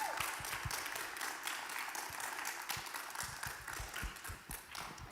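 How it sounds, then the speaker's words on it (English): Audience applause for the speakers at a talk on Palestine and Israel, a sustained wash of many hands clapping with a few sharper close claps standing out, steady and moderately loud. "let's get a round of applause for our amazing speakers"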